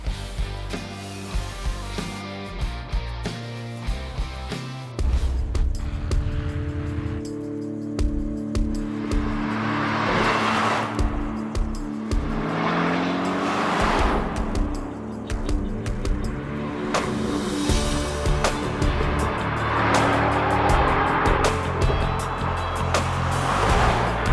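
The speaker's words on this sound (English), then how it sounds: "Got this car finished up and took it out for a test drive." A finished custom supercar is out on a test drive, its engine rising and falling loudly through several rev and gear sweeps, with road and wind rush filling the background and no talk.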